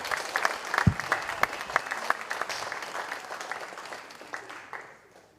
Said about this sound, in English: Can we get one last round of applause for Mina?